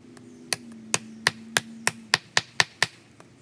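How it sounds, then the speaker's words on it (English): Flint struck by bipolar percussion to break off a sharp flake gives about nine sharp, close stone-on-stone cracks in a fairly steady rhythm, with a low hum in the background. "Let's go ahead and do some bipolar percussion and break us off a nice sharp flake"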